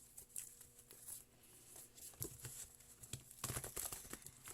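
Tarot cards being shuffled at a card-reading table, a soft, close papery patter and flicking that thickens into a quicker riffle near the end, faint and without voices.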